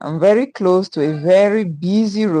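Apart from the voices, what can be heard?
None of the usual background noises is heard.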